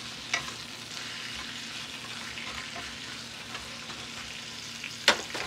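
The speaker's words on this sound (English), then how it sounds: "you can cook your spinach as much as you like it" Spinach cooking in a pan gives a soft, steady sizzle close by, with a few scraping stirs and a sharp utensil clatter near the end, no voices.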